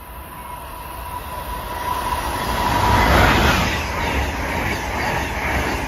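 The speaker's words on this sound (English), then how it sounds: "Approaching at 11:01 is train 2160," An Amtrak passenger train, number 2160 from Washington to Boston, rolls past Bristol station in Bucks County, Pennsylvania, a loud sustained rumble and rail roar swelling to a peak midway and staying strong, with faint wheel clatter.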